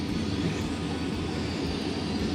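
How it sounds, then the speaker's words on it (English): A small airplane takes off near an island off Ha Long Bay in Vietnam, its steady engine drone rumbling loud and continuous throughout, broad and even with no voices over it. "the airplane's taking off."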